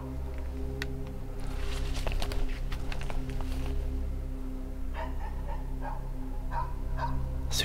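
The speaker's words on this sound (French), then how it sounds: "Ce chien est infernal." A dog barks in a few sharp bursts over a steady background hum, with yips and whimpers between, fairly close and loud.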